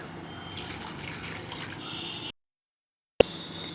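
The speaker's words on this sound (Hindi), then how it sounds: "अब हम इसमें डालेंगे पानी।" Water poured from a glass into a cooking pan of spices and cashews, a steady splashing trickle that stops abruptly, followed by a single sharp clink.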